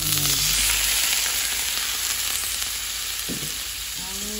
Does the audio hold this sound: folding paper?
no